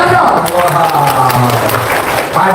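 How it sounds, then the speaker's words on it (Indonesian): Audience clapping breaks out, mixed with voices talking over it, dense and fairly loud throughout. "tepuk tangan dong."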